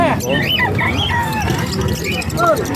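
Many pet birds squawk and chirp together at the Bocaue pet market in the Philippines, a dense and busy chorus of calls mixed with nearby talking from buyers and sellers.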